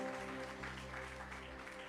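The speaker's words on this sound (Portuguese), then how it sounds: "Dá uma forte salva de palmas para Jesus" A church congregation claps for Jesus in a steady wash of applause, with a sustained musical tone, likely an organ or keyboard, beneath it.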